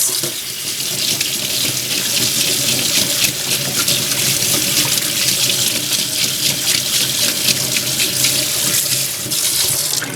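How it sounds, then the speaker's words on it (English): Tap water runs steadily and loudly into a sink while a makeup brush is rinsed under it, a continuous close rushing stream with no talk. "And then I'm doing the same thing while running it underwater"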